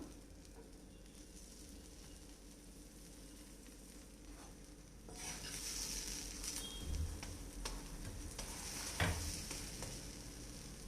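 Cheese paratha sizzling on a dosa tawa after being flipped, with a soft steady fry that swells louder halfway through and carries a few faint scrapes.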